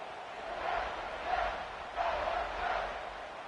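A stadium crowd roars steadily in a College Football 26 video game, a dense, continuous wash of cheering that swells slightly and holds without any voices standing out.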